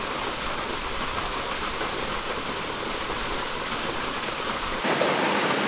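Waterfall at the Pekel gorge in Slovenia, a steady, loud, close rushing roar of falling water that fills the whole stretch without any voices.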